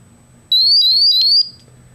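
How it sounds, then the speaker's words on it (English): A RAE ToxiRAE gas detector sounds its startup alarm when switched on: one loud, piercing electronic tone, rising slightly as it warbles, lasting about a second and standing alone against quiet background hum. "the LEDs flashed and the alarm sounded to show that the unit is functioning properly"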